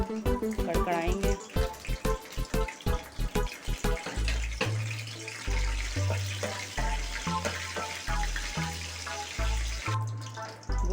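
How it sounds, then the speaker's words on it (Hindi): Whole garam masala spices, star anise, black pepper, cloves, cinnamon and black cardamom, crackle and sizzle in hot oil, with sharp popping bursts at first settling into a steady fry and stirring clatter. "इन सबको शामिल करके कड़कड़ाएंगे।"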